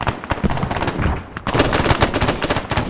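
Machine gun firing in a video game, rapid dense bursts of automatic fire, loud and close, sharpening into a louder sustained burst partway through.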